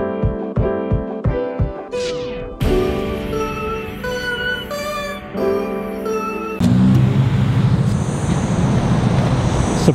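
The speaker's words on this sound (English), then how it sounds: "surprising amount of cars here for a random Tuesday night" Cars at Daikoku parking area in Tokyo at night, a shifting mix of idling engines and revving exhausts, with a loud broadband roar of passing or accelerating vehicles building over the final few seconds.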